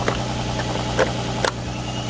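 An Infiniti Q50 Hybrid idling just after a jump start with a Noco jump starter, a steady low hum with a couple of brief clicks or knocks near the middle, no talk.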